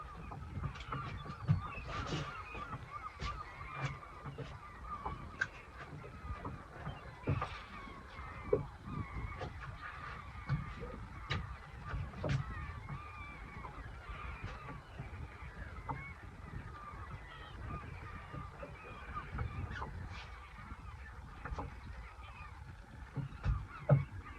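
Geese honk again and again at a distance near a small fishing boat on the water in the UK, their calls scattered and irregular over a steady outdoor rumble.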